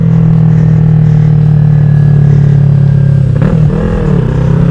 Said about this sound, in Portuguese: Ó o pipoco. Tá pipocando, velho.